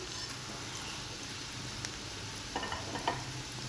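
Cumin and pepper frying in a pan for a toor dal bassaru, a steady dense sizzle with a few light stirring taps near the end, under background music.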